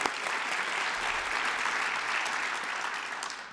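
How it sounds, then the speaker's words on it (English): A conference audience at a closing session applauds Jen Ford Reedy, steady full-room clapping that holds evenly before tapering slightly at the end. "everybody give a round of applause to Jen"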